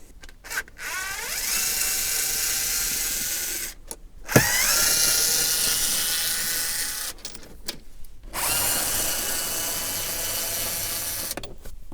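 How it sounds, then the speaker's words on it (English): A power tool fitted with a 7mm socket spins out screws from a panel on an Opel Astra J, giving three long whirring runs separated by short pauses, near and fairly loud, with no talking. "To remove the screws I need 7mm socket like this one."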